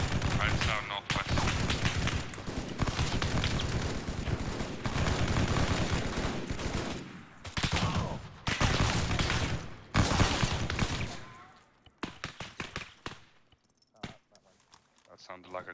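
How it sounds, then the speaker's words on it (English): Grenade blast amid rapid gunfire in the video game ArmA 3, a dense run of loud overlapping shots and bursts through most of the stretch, then scattered sharp cracks near the end, with voices talking over the action. "That sounded like a grenade."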